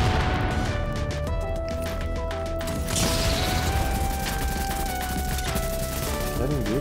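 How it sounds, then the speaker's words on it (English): A grenade goes off in the shooter video game The Division, its blast buried in a dense, continuous mix of gunfire, crashes and game sound that stays loud throughout. "Right here, I'll throw a grenade."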